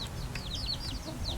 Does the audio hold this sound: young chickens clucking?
yes